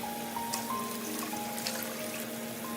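Water pours steadily into a cooking pan while making fish mandi rice, a continuous close, even trickle and splash with no talking.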